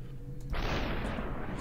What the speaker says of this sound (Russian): Вот это выстрел.